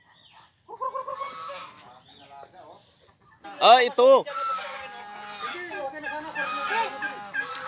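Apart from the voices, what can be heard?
chickens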